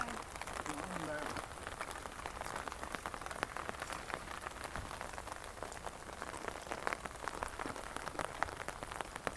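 Rain falls steadily outdoors during berry picking, a dense patter of drops on leaves and surfaces, with people talking quietly at times.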